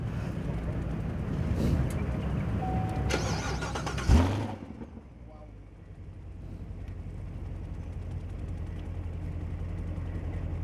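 A car engine runs and revs loudly, then cuts to a quieter steady idle hum; a brief knock sounds at the changeover.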